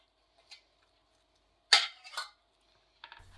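A few sharp metallic clinks of a spoon against a pot with burnt-on porridge, spaced apart with silence between, one faint tap early then two louder knocks.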